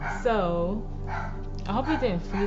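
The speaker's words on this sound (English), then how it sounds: "Sorry for my dog barking" A dog barks twice, a drawn-out bark followed by another after a pause, moderately loud indoors beneath someone speaking.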